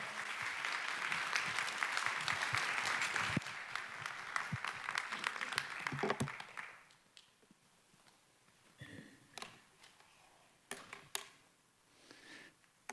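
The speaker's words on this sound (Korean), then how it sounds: "우리 고봉익 이사님 나오실 때 뜨거운 박수로 한번 환영하겠습니다." Audience applause welcoming a guest speaker at a church family event, dense clapping for about six seconds that then thins to scattered claps, moderately distant, without speech.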